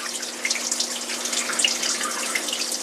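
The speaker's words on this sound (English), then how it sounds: "for that little pump to drain the water in the washer side of the Panda" Water drains from the washer side of a Panda washer-dryer, a steady close hissing trickle driven by its small drain pump, with a faint constant hum underneath.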